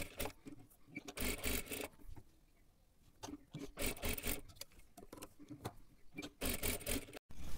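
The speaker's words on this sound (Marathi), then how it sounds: "हे पहा आता इथे आपल्याला हे डबल शिलाई मारून घ्यायची आहे" A sewing machine double-stitches a katori blouse in short bursts of rapid mechanical clatter, broken by pauses and handling noises, close and moderately loud.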